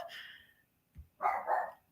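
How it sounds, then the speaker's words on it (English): A dog barks outside on a windy evening, first one muffled bark, then a short pause and two louder barks close together, at moderate distance. "We've reached the point in the evening of wind that Puppy's outside barking."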